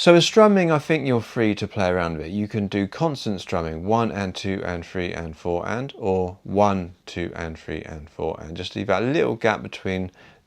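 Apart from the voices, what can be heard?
No everyday noise stands out behind the speech.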